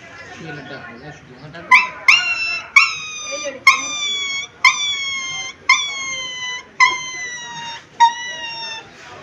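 A child imitates a dog with about eight short, sharp yelping barks in a steady rhythm, loud and close, each one ending in a brief whine.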